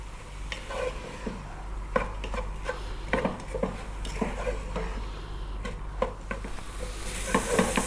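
Onions dry-fry in a pan over lively heat with no oil, ahead of an Ethiopian beef and potato stew. A soft, steady sizzle runs under repeated scraping and stirring strokes, close by and with no talk.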